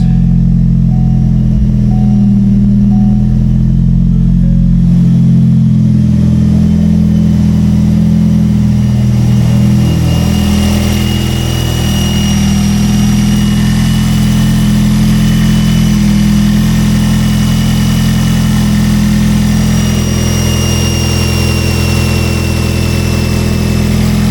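A Ford Focus ST engine with an upgraded throttle body turns over and catches, then settles into a steady, rumbling idle that continues close by with no talking.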